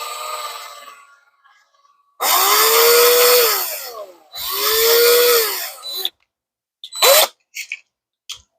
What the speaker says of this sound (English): Put our drill in there.